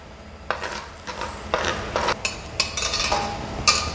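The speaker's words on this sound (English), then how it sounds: "the garlic is basically frying in the olive oil" Garlic in hot olive oil in a pan makes a steady low sizzle, broken by repeated clinks and scrapes of a utensil stirring against the cookware, close and fairly loud.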